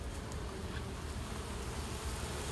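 Honey bees buzzing around a backyard beehive, a dense continuous drone filling the air at close range with no pauses.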